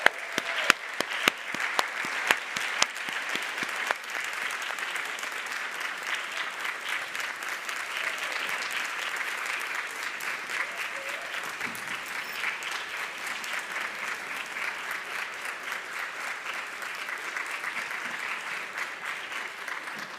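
Sustained audience applause at a college health leadership forum, starting with a few sharp individual claps and settling into a long, even, moderately distant roar of clapping.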